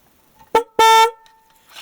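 Trumpet horns from a 1969–1970 Cadillac blare out in two loud, close bursts, a short toot followed by a longer, brassy multi-tone blast, then a quiet tail.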